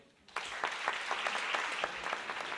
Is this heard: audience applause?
yes